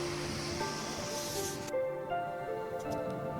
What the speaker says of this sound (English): Check out this powerful water flow rushing through a controlled channel.